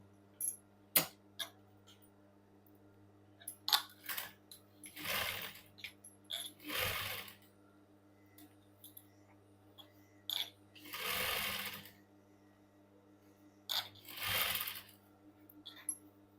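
Sewing machine stitching a V-neck collar, with short whirring runs of stitching separated by pauses and small clicks and taps from handling the fabric.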